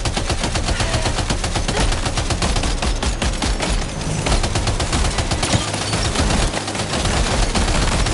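Rapid sustained gunfire in the video game Death Stranding, dense repeated shots rattling without pause like automatic fire, loud and close, with no talking over it.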